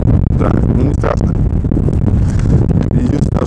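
Heavy, steady storm wind on the coast at Vityazevo near Anapa buffets the microphone with a constant low roar, broken by faint scattered rustles and brief bumps.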